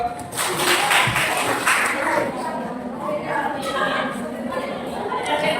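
A small gathering claps for the person who picked number 45 in a numbered draw, a steady burst of hand applause mixed with chatter and voices for several seconds.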